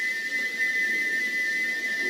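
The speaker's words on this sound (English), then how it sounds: "he wouldn't stop whistling until two fitters climbed up and knocked his whistle valve in place" A steady, unbroken steam engine whistle from the big express engine Gordon of Thomas the Tank Engine, held as one continuous shrill tone at even volume over a soft hiss.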